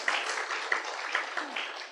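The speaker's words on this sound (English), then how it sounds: "applause is welcome" A crowd applauds in a dense, continuous wash of clapping with a few sharper claps standing out.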